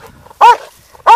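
A dog gives two sharp, loud barks close by, separated by a short quiet gap.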